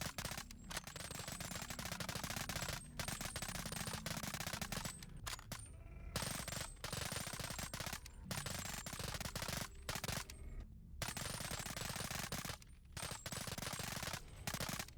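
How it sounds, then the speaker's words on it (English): Sustained fully automatic fire from a select-fire SMG with a 1200 RPM rate and 30-round magazine in a Boneworks VR mod, loud rapid bursts repeating across the whole stretch with only brief gaps between them. "It's a select fire SMG with an RPM of 1200."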